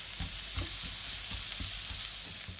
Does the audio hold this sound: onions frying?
yes